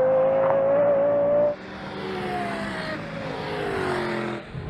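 Lexus LFA and LC500 sports cars race a quarter mile on a greasy track. A loud high engine howl climbs, drops sharply at a gear change, then climbs again as the cars pass close by.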